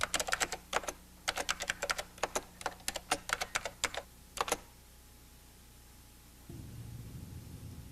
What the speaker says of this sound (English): We'll type in our sales regions.